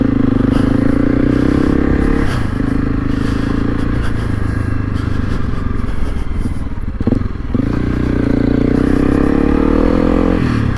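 Honda CRF300 Rally motorcycle engine droning steadily up close while the bike rides over big loose rocks, with scraping and clattering from the shifting stones; the engine note dips briefly midway, then resumes.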